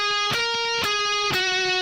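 Electric guitar playing a harmony line from a Final Fantasy battle theme, clean sustained notes with three picked attacks in a slow steady rhythm, moderately quiet and alone.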